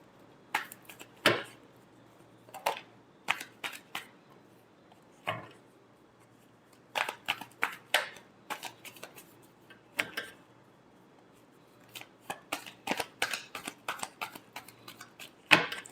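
A deck of tarot cards is shuffled by hand in short bursts of crisp, close clicking and flicking, separated by quiet gaps, with no voice.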